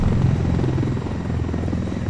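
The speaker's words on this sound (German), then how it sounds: "Drüben ist ein Helikopter." Helicopter in the video game Ghost Recon Wildlands, a steady loud rotor thump and engine drone throughout.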